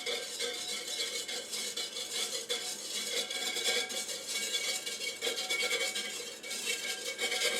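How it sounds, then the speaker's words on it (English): A curing mixture for ring bologna whisked quickly in a bowl, a continuous bright rapid scraping and clinking of whisk against the container, steady and close throughout with no talking. "Just gonna whisk this up quick."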